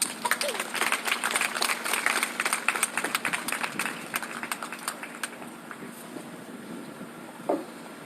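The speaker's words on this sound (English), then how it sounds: "Give him a round of applause" Audience applause at an outdoor rally at the Michigan State Capitol, a sustained patter of many hands that gradually thins and fades, somewhat distant, with a voice briefly heard near the end.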